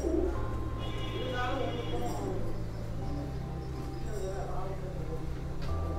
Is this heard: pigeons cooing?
yes